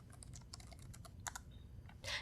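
Command typed on a computer keyboard in a DiskPart terminal window: a soft, irregular run of about a dozen key clicks, faint over a low background hiss, ending in a brief louder clatter, with no talk.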